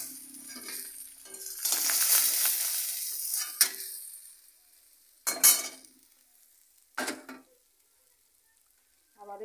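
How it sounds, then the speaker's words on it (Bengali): Pieces of bhetki fish fry in hot oil, giving a faint, hissing sizzle for a few seconds, followed by a few sharp clinks and scrapes of a utensil against the pan. "নিয়ে বাকি মাছগুলো আমি আবার ভেজে নেব।"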